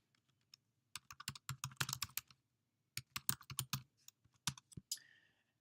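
Computer keyboard typing a discussion board post, quick bursts of key clicks in uneven clusters with short pauses, close and clear with no talking.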